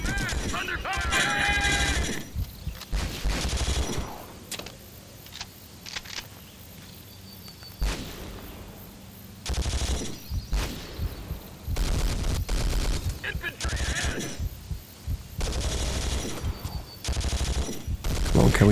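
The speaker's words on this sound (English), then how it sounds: "Stop shooting me, buddy." Sustained machine-gun and rifle fire in the war shooter Conflict: Global Storm, with dense bursts and rattling volleys that stop and start through the clip, loud and close, with talk mixed in.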